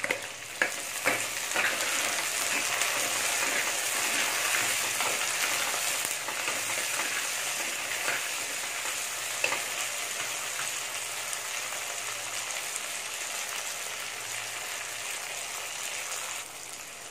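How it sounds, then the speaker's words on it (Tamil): Chopped onions and tomatoes sautéing for sardine curry make a continuous, loud sizzle and hiss in the pan, with a few clinks from the spoon early on and no talking. "வெங்காயம் தக்காளி எல்லாமே நல்லா வதங்கிருச்சு"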